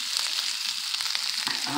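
Corned beef browning in a pan over high heat, a steady bright sizzle and crackle of frying meat, close and continuous without talking.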